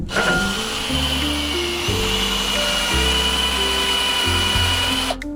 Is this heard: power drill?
yes